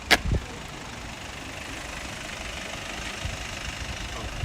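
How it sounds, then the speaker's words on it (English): A car engine idles at a live residential property auction on a Melbourne street, a low steady rumble heard alone for several seconds after a brief knock at the start. "Just make way for the car there, through there."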